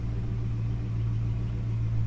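A Holden HK's engine idles with its ignition timing set wrong, giving a steady, fairly quiet low rumble that holds evenly throughout with no talk.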